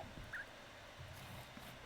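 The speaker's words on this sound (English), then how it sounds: "I was wondering where the clucking was come from." A chicken clucking in a Minecraft-style survival multiplayer game, a single short faint cluck over a quiet background hum.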